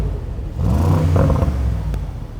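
A Brabus G63 G-Class cabriolet with 800 HP revs hard twice in quick succession, a deep throaty exhaust roar building and falling back to a rumbling idle, close by.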